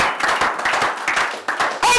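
A church congregation claps together in praise, a dense rhythmic patter of many hands with brief pauses between bursts, fairly close and loud, with faint voices mixed in.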